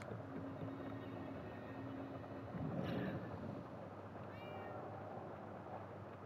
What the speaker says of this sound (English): There's a cat here as well.